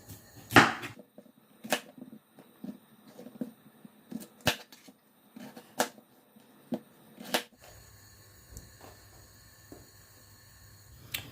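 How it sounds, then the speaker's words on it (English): A knife chops potatoes into small pieces on a board, with sharp, crisp cuts landing irregularly every second or so, fairly close and clear, then a quieter humming stretch at the end. "So I've got some potatoes here. So I'm just going to cut them up into small pieces."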